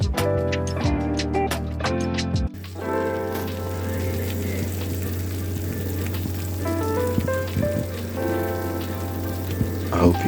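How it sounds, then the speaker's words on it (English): Homemade lasagna sizzling as it cooks, a steady, close crackle and hiss that runs throughout, with faint clinks near the start. "I hope you can hear that sizzling sound."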